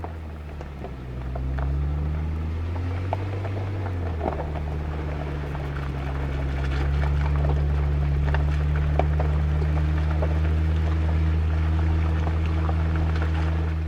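An off-road vehicle crawls slowly over rough rocky bedrock trail on the way to Ouray, its engine a steady low drone that rises slightly partway through, with scattered knocks and rattles from the rocks.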